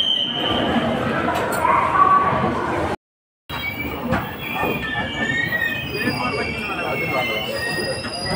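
A train rolls into Guntur Junction with metallic wheel squeal and rumbling carriages, loud and close. A brief dropout splits the sound, and faint voices mingle with the rail noise.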